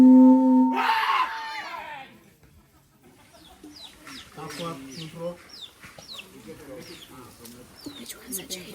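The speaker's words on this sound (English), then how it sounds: "they have a ton of free-range chickens just roaming around" Free-range chickens roaming a Vanuatu village give scattered short clucks and chirps at moderate distance, following a loud burst of voices, with talk and general village noise around them.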